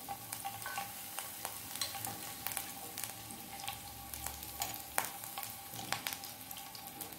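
Chopped green chilli frying in a pan for masala macaroni gives a continuous soft sizzle with small pops and occasional stirring clicks, fairly quiet and with no speech.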